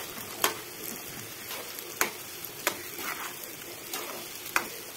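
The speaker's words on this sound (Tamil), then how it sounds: "இப்போ கட் பண்ணி வச்சிருக்க மாங்காய் சேர்த்துக்கலாம். இது எல்லாத்தையும் நல்லா கலந்து விட்டுக்கலாம்." Cut raw mango pieces fry in oil with mustard seeds and curry leaves for pickle, a close steady sizzle broken by several sharp spoon clacks against the pan as they are stirred.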